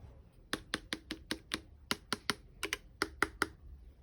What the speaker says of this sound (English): As you can hear, it's quite a sturdy keyboard.